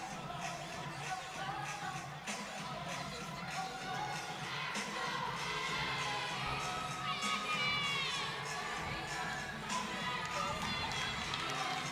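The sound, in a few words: fans in the stands cheering at a gymnastics meet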